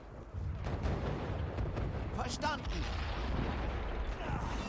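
Mortar and artillery fire in Men of War: Assault Squad 2, a 1940 battle at Dinant: a steady, rumbling wash of distant explosions and shelling, with a sharper whistling burst in the middle.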